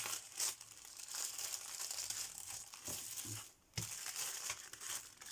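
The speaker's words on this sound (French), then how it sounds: "Le papier de soie orange comme ça." Orange tissue paper is crumpled close up, giving a continuous crisp crinkling and rustling with a brief lull partway through before the crackling resumes.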